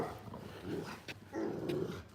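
Border collie making soft low growls and whimpering vocal noises in short bursts, close but faint, during a Sunday morning dog walk.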